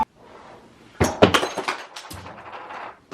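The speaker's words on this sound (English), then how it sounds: "This thing literally just fell off the table, and now there's glass everywhere." A glass Christmas candle falls off a table and smashes, a sudden crash followed by a scatter of clinking, tinkling shards settling for a couple of seconds, close and fairly loud.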